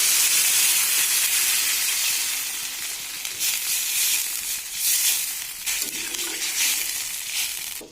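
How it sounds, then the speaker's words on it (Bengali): Water poured into a pan of hot fried potatoes and eggplant bursts into a loud, steady hissing steam sizzle close by, surging in waves and easing toward the end, with no talk. "এবার দিয়ে দেবো এর মধ্যে জল, দিয়ে দিচ্ছি এর মধ্যে সামান্য পরিমাণ জল।"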